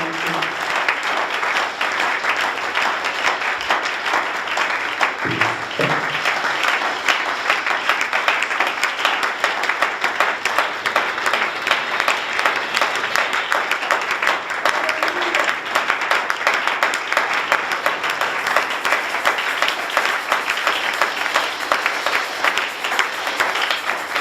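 A church congregation applauds and cheers the Lord during a service. Dense, continuous clapping and crowd noise hold steady and loud for over twenty seconds, with a brief low thump near the five-second mark.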